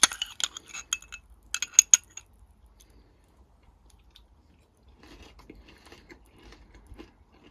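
Someone bites into a crunchy homemade puffed rice snack, a burst of sharp close crunches and a light clink over the first two seconds, then quiet, softer chewing toward the end.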